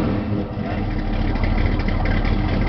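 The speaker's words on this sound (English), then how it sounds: "Sounds like about 500 LS6 horsepower" A 1957 Chevrolet with an LS6 V8, running a little cold-blooded, rumbles loud and close in a steady, throbbing idle that holds for the whole stretch.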